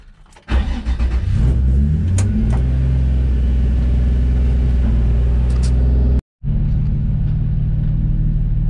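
A Nissan 350Z engine cranks and fires, then settles into a loud, steady, rumbling idle close by. The idle is cut by a brief gap near the end before the same drone resumes.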